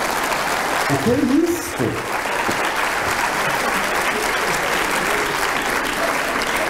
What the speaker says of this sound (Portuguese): Nossa, as mulheres bateram palmas.